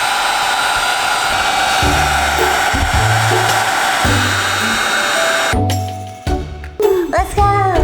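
A hair dryer runs loud and steady, blowing hot air over heat shrink tubing, a continuous whooshing drone that cuts off near the end, leaving brief clicks and handling noises.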